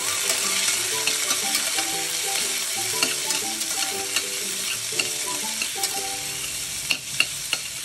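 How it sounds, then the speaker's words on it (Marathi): Sliced onion sizzles steadily in a hot pan with whole spices and green chillies for a masoor pulao, while a spoon stirs now and then with a few sharp clinks against the pan. "जरासा कांदा परतून घ्यायचा."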